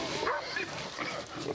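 Dogs bark and yip excitedly at close range during the capture of a large crocodile, with quick repeated barks and whimpers over a noisy outdoor background.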